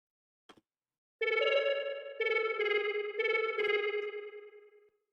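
A sine-wave synth lead shaped by a low pass filter and volume automation plays a sustained, ringing melody of held notes with bright harmonics, a short click before it, fading out at the end.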